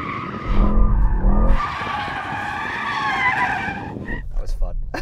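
A Mercedes-AMG GT 63S 4-Door drifting in rear-drive-only mode lets out loud, sustained tyre squeal over a roaring, rising engine, with the skid fading near the end.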